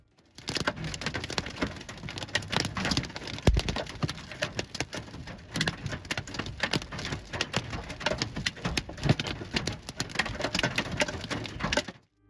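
A hailstorm on a Texas road pelts cars with a dense, continuous patter of stones drumming on metal and glass, loud and sustained for about twelve seconds before cutting off abruptly.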